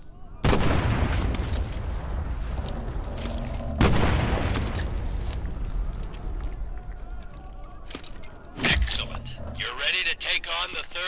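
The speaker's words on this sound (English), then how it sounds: "Arm the grenade and throw it." Grenade blasts in the WWII shooter Medal of Honor: Above and Beyond, two heavy booms a few seconds apart over continuous game din, followed by a third sharper burst, with spoken instructions throughout.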